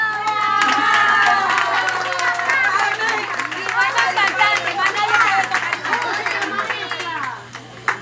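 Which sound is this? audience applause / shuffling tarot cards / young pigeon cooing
audience applause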